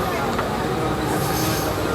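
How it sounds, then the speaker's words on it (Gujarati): The interior of a moving local train fills the space with a loud, dense rattling rumble and roar that holds steady throughout the short stretch. "ફેમિલી ટ્રેનમાં આવી ગયા છીએ"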